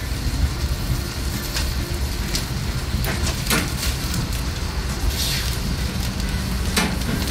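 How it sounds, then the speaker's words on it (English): Onion soup cooking on an outdoor grill gives a steady, dense sizzle and bubbling hiss, constant and close, with occasional sharper crackles. "that's the reason why we're making onion soup on the grill and not in the kitchen"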